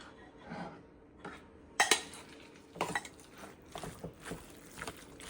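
Cabbage mixed into a cheesy, creamy mixture in a metal bowl, with a spoon scraping and clinking against the sides in irregular bursts, some louder knocks among softer stirring.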